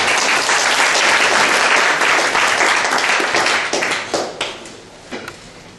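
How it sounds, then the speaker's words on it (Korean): An audience at a Korean lecture forum on invasion tunnels breaks into dense, close applause that holds steady and then thins out to a few scattered claps. "박수로 격려해 주시면 됩니다"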